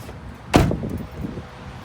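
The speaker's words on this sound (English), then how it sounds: "Let's pump the hood, check out the engine." The hood of a lifted 2005 Chevrolet Silverado Z71 extended cab pickup pops open with a single sharp metallic thunk up close, followed by a short rattling settle against quiet background.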